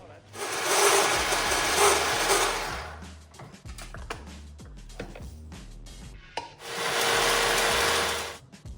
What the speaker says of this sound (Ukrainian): Треба зробити крошку, я буду це робити в блендері.